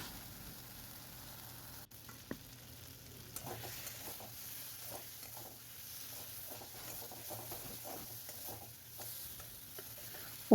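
A potato and parwal (pointed gourd) curry with poppy seed masala is stir-fried in a kadai over low to medium heat, with a soft, steady sizzle under faint spatula scrapes and light clinks.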